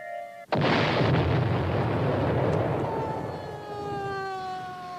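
A dynamite blast at a Chinatown restaurant in Toronto at 4 a.m. bursts out loud and sudden after a brief silence, and a long rumbling roar follows while wailing emergency sirens rise and sweep over it.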